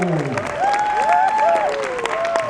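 An audience applauds a Hawaiian band at a live performance, a steady wash of clapping with a sustained tonal melody over it.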